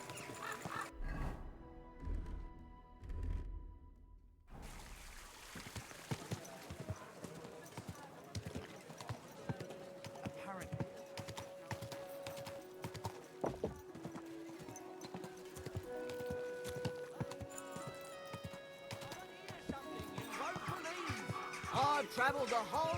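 Horse hooves clip-clop in Kingdom Come Deliverance 2, a steady walking rhythm running under in-game music, with a whinny and talk at moments.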